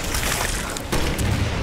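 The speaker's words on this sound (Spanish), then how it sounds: "Voy a probar a meterle un cebollazo con el lanzagranadas" In the Resident Evil 6 video game, a grenade launcher explosion lands as a dull boom with a sharp burst partway through, inside a dense, noisy game soundscape.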